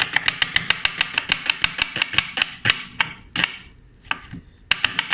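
A knife chops onions on a cutting board in a fast, steady run of crisp, close knocks. The chopping pauses briefly, then resumes.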